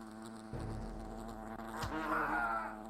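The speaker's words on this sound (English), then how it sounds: "Let's see these wasps. Let's see how big a threat they are." Giant wasps in Fable: The Lost Chapters drone with steady insect-like buzzing throughout, a low hum underneath and a brief rising whine near the end.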